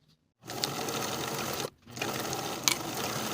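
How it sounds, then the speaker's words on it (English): A sewing machine stitches the shoulder seams of a lined woman's coat facing, its steady close whirring running in two long bursts with a brief pause between them. "Sew the shoulder seams with a 3/8 inch seam allowance and press the seams open."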